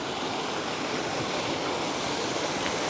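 Water rushes steadily over a rain-swollen waterfall at a creek crossing, a constant broadband roar that stays loud and unbroken, with no voices.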